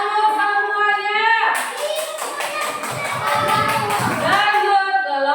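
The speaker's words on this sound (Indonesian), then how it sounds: "Mari tepuk tangan dulu semuanya. Beri tepuk tangan dulu semuanya." Children in a primary school classroom, a second-grade class, applaud a group after their work is presented. A burst of broadband clapping runs for about three seconds, framed by children's voices speaking or chanting before and after.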